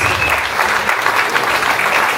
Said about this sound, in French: vous pouvez les applaudir un peu plus fort